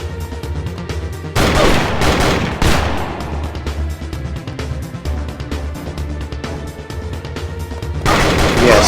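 Heavy gunfire from big guns in a video game, with repeated loud blasts and dense volleys layered over a continuous low rumble and background score.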